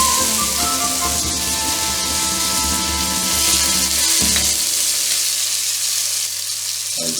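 Food browns in a hot pan, giving a loud, steady, close sizzle and crackle, with a brief clank partway through and the frying settling toward the end.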